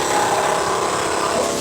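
A grinder runs at a sidewalk structure, a steady loud whirring drone that stays level for the whole moment, with no voices over it.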